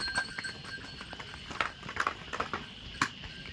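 Pack mules or donkeys hauling goods up to the Pavagadh hill temple walk by, their hooves clopping in an uneven series of sharp, close steps.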